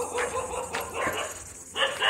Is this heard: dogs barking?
yes